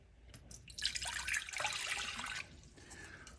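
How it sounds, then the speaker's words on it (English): A cup of water is poured into a medium saucepan, making a short, faint splashing pour that rises sharply, runs for about a second and a half, then stops. "we're going to put 1 cup of water."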